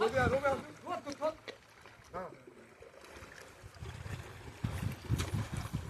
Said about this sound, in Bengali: দেখলে তো নৌকা কীভাবে নামায়, এভাবে নামায় আর ওইভাবে আস্তে আস্তে যায়